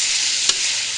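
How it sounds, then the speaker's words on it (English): Lamb, onions and garlic sizzle steadily in a frying pan for a lamb and spinach curry, a constant bright frying hiss with one brief soft scrape of stirring midway, close and alone. "Now I'm going to give this a stir whilst the rest of everything browns."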